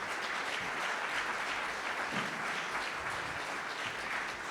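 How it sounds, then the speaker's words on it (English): An audience at a housing panel discussion on building attainable missing-middle housing applauds the panelists, steady even clapping from a moderate crowd lasting several seconds, slightly distant. "Let's have a round of applause, please, for our panelists."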